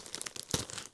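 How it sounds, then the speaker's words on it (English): Plastic packaging crinkles and tears open by hand in a quick, close burst of crackling, with one sharper rip midway. "I'll just see if I can tear it open."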